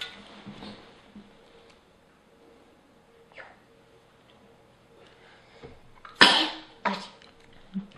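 A person sneezes once, sharply and loudly, during a prize drawing. A second, smaller burst follows soon after, over faint room noise.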